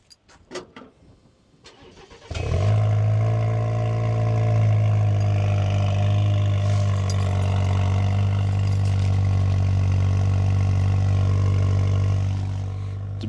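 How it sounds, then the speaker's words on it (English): A 2023 Chevy Colorado truck with an Overland series exhaust cranks briefly, then fires up and settles into a loud, steady, rumbling idle that holds close by for over ten seconds, with no talking. "I got to give you guys the Overland series exhaust."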